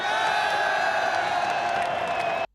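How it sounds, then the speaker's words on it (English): Football supporters celebrating a World Cup qualification win for Australia over Uruguay, a dense, sustained crowd roar of cheering and whooping with steady tonal chanting, loud and continuous before cutting off abruptly. "once more a huge applause for these guys"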